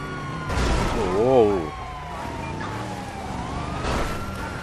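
Police car siren in GTA 5 wailing with a rising and falling tone, fairly loud at first and then fading behind engine noise while someone talks over it.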